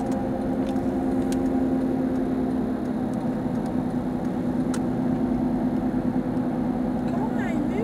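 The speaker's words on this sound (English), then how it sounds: "this car sounds horrible" A car with a rough, bad-sounding engine cruises on a highway, giving a steady droning hum with continuous road noise and no break.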